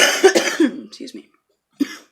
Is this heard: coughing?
yes